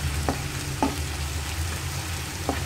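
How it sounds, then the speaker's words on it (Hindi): White onion and green chillies sauté in oil over a medium flame, giving a steady close sizzle with a few soft stirring scrapes at intervals and no voices. "अब इसको थोड़ा सा सौते करना है"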